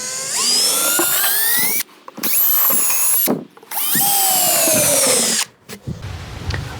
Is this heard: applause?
no